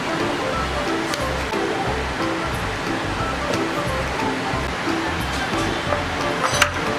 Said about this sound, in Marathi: हे बघा थोडं मी मिक्सरला असं फिरून घेतलं